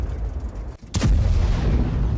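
A single sudden blast from an explosion that damaged a train in Tambov, Russia, breaks through a constant rough rumble of background noise, with the noise continuing louder afterward.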